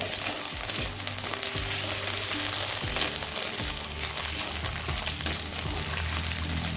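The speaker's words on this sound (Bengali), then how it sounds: "আদা কাঁচা লঙ্কাটা তিরিশ সেকেন্ড মতো ভেজে নিয়ে দিয়ে দিচ্ছি" Ginger and green chilli sizzle steadily in hot oil, a dense continuous frying hiss with occasional stirring scrapes, close and loud throughout with no talking.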